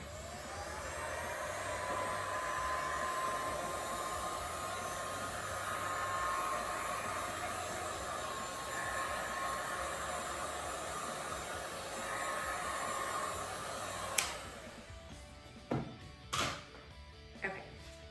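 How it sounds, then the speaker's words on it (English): A heat gun blows hot air over a resin ribbon pour in a steady broadband whoosh with a faint whine, running continuously for about fourteen seconds before cutting off, followed by a few light knocks and handling sounds. "So I'm gonna just use the heat gun."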